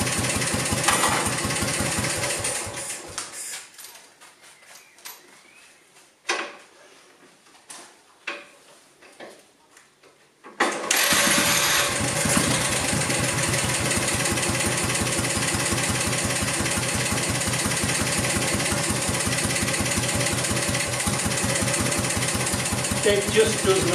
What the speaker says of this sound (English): I'll now stop it and I'll start it with a kickstart